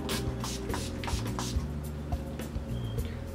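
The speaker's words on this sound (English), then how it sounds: "So I just apply a few sprays of that." Several quick hissing bursts of Skindinavia makeup finishing spray, close by, in a rapid series of short puffs with no talking.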